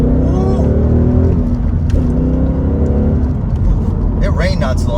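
A 2016 Ford Mustang GT Premium with a six-speed manual and Performance Pack accelerating hard on a damp road, its steady engine drone loud and close with a rise and a brief gear change, and someone talking over it.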